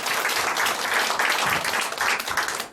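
A church congregation breaks into steady applause during a sermon, a dense, even wash of many hands clapping close and loud throughout.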